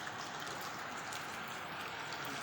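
Rain falls at an outdoor Indonesian Independence Day ceremony in Mimika Tengah, heard as a steady, even wash of drops with no voices.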